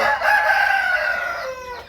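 A young domestic rooster crows once, close and loud, a drawn-out strained cock-a-doodle-doo lasting nearly two seconds with no talk over it.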